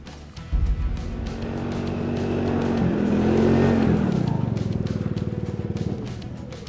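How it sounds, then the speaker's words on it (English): Four 200-class snow scoots ride together, their engines droning and revving in a loud, steady roar whose pitch rises and falls as they pass. No one speaks. "Riding these snow scoots today has been epic."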